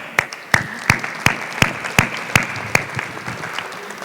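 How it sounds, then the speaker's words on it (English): Audience applause at a university faculty gathering: a series of sharp, evenly spaced claps, roughly ten in about four seconds, close and fairly loud over a quiet room with no talking. "it's hard to go first, so we got to applaud that."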